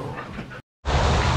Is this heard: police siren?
no